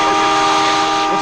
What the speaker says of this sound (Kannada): ಟ್ರೈನ್ ಹೊರಡ್ತಾ ಇದೆ.